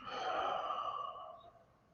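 A single slow, breathy exhale during a guided meditation breathing practice, strongest at first and gradually fading away over about two seconds, heard alone and close.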